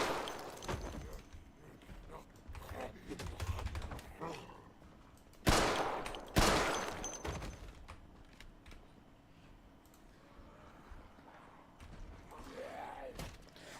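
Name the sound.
gunfire in Project Zomboid video game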